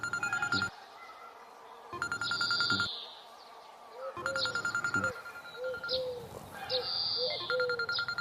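A telephone rings with an incoming call, repeated bursts of electronic ringing separated by short pauses, fairly faint and layered with background tones.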